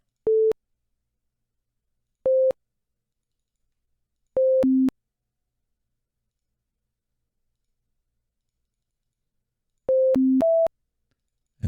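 Short electronic beeps from a Circuit Playground board running a Simon-style memory game sound in sparse groups at different pitches: single tones, then a pair, then a quick run of three notes, separated by silence.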